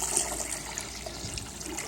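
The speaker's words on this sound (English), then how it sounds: "We'll start the process by adding approximately 1 quart of water" About a quart of water poured from a container into a prototype air-powered toilet's bowl, giving a steady close splash and trickle for a couple of seconds with no talk.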